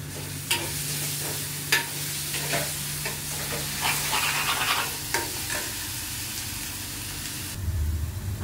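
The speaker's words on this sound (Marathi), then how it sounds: "कांदा भाजून झालेला आहे." Onions fry in a pan for chicken dum biryani, a steady close sizzle with stirring scrapes and clicks throughout, no talking.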